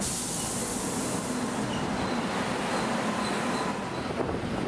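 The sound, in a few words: train passing and commuter train arriving at station platform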